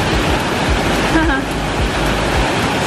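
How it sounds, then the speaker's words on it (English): Continuous broadband rushing of a waterfall in Zugspitzland, Germany, fills the scene, loud and steady, with a faint voice briefly audible beneath it. "and there's a waterfall to look at"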